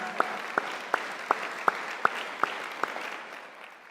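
Church congregation clapping in rhythm, evenly spaced sharp claps roughly every third of a second over a soft murmur, moderately distant and fading at the end.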